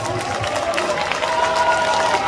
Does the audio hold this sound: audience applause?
yes